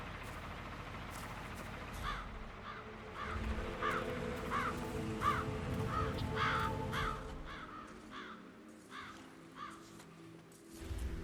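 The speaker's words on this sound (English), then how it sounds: "Damn birds." Crows cawing repeatedly in the video game Hitman, a steady run of harsh, evenly spaced caws over a low ambient rumble, fairly close and clear with no talking.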